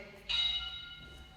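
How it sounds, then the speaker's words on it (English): Bell of an interval timer at a low-impact workout class sounds once with a sharp ring that lingers and slowly fades in a quiet room. "Bell went."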